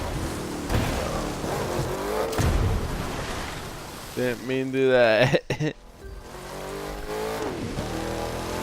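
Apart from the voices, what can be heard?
car engine revving in The Crew 2 video game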